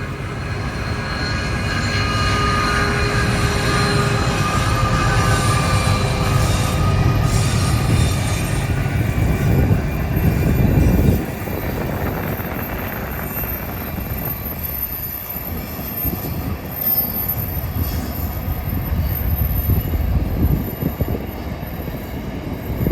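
A train rumbles past close by on the Transcontinental Railway line near Crystal Brook, South Australia, a loud continuous roar of wheels on rails with some metallic squeal, easing slightly partway through and carrying on steadily.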